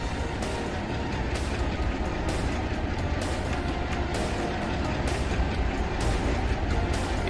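GP50 locomotives running in the game Chris Sawyer's Locomotion, a steady rumbling rail roll with faint rhythmic clatter, continuous and fairly close throughout with no talking.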